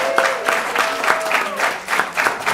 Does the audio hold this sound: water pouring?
no